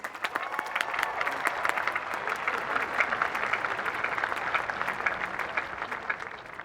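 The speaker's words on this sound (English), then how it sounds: "Please join me in giving our 9 co-valedictorians another round of applause." A commencement crowd at Lafayette College's Class of 2022 ceremony applauds the co-valedictorians, a dense, continuous wash of many hands clapping at moderate distance, steady throughout without a break.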